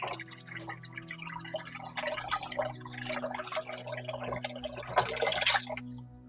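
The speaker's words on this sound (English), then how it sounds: "I just want to get some water in there" Water runs and splashes into a bowl for sourdough bread dough, a close, irregular trickling and dripping that grows busier near the end, then stops.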